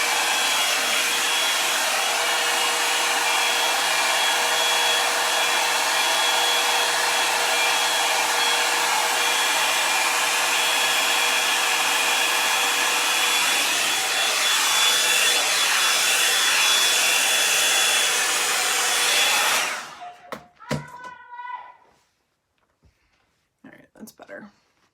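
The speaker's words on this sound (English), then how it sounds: "I would just use a regular hairdryer for the back portion of it" A hair dryer blows loudly and steadily for about twenty seconds, then shuts off, leaving a few quiet clicks and handling noises.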